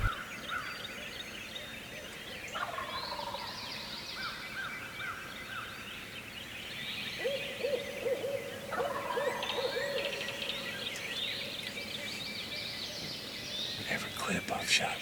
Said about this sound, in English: I'd never heard a turkey gobble that much.